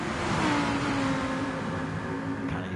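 Lamborghini GT3 race cars in a racing video game lapping Spa-Francorchamps, engines droning and revving steadily up the Kemmel straight, with a rising whine and no voices.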